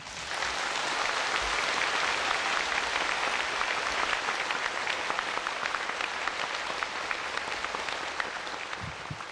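An audience applauds after a spiritual talk by Supreme Master Ching Hai in Hsihu, sustained dense clapping filling the room at steady loudness, tapering slightly toward the end with no voices over it.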